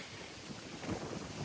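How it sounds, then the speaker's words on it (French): Wind blowing outdoors beside open water, buffeting the microphone with a low, soft rumble and faint gusts over a brief moment. "il y a un peu de vent"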